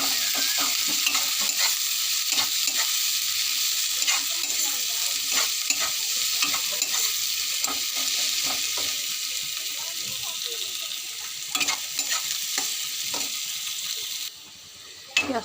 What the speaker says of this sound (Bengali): এবার পেঁয়াজটা ভালো করে ভেজে নেব, লাল লাল করে ভেজে নেব।